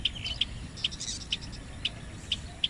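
A pet crow calls during free flight, giving short sharp chirping cries about every half second, clear and fairly close over a quiet outdoor background.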